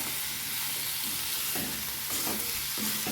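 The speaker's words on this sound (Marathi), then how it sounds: "आणि ही तोंडली आपल्याला मस्त सर्व मसाला आणि तोंडली एकत्र छान कालून घ्यायची चांगले हलवायचे" Ivy gourd (tondli) being stirred with spice masala in a pan, a steady soft sizzle broken by a few scraping strokes of the spoon, close and alone.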